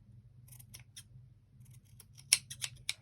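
Scissors snip through yarn while trimming a tassel, a scattering of close, crisp metallic cuts that grow sharper and quicker near the end, heard alone over a low steady background hum.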